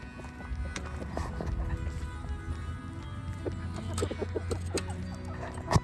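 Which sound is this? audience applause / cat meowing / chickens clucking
chickens clucking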